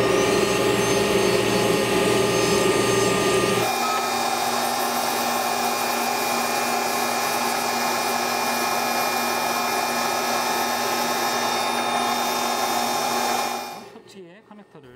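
A dental bur trimming a pre-sintered zirconia crown produces a continuous loud high-pitched whine that drops slightly in tone partway through, then spins down and stops near the end.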